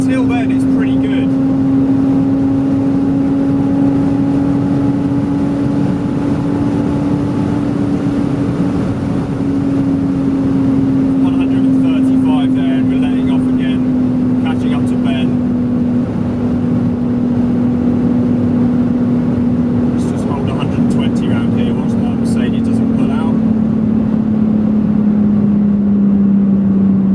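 BMW Z4 convertible at high speed on the Autobahn, with a loud constant engine drone that slowly falls in pitch, heavy wind and road roar throughout, and someone talking over it.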